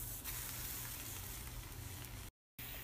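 Eggplant slices fry in olive oil in a pan over high heat, giving a steady, dense sizzle that runs evenly and close throughout, cut by a short silent gap near the end.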